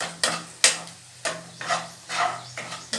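A spoon is scraped and stirred through ivy gourd curry in a pan, giving six or seven sharp strokes close up at an uneven rhythm with quiet gaps between them and no talk.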